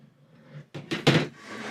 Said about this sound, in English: let's go ahead and lift off the Void Systems lid